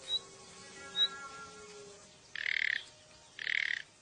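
A bird sounds an alarm call near a pool in the Australian wild as a snake approaches: two brief chirps early on, then two loud, harsh, buzzing rasps about a second apart, over quiet ambient calls.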